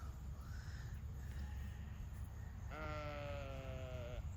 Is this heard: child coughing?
no